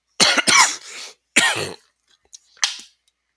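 A person coughs several times in quick succession, close and loud, then a short pause and one more fainter cough, with a throat-clearing quality between.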